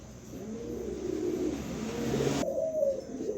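A pair of pigeons coos softly and steadily at close range in a cage, low rolling calls repeating without pause and no voices.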